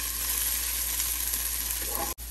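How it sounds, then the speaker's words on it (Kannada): Ginger garlic paste fries in a hot pan with a steady, close sizzle and crackle, a continuous hiss with no talking, briefly interrupted near the end. "ಸೊ ಇದು 1 ನಿಮಿಷ ಹೀಗೆ ಫ್ರೈ ಮಾಡೋಣ, ಅದು ಹಸಿ ವಾಸನೆ ಹೋಗೋ ತನಕ ಜಿಂಜರ್ ಗಾರ್ಲಿಕ್ ಪೇಸ್ಟ್ದು."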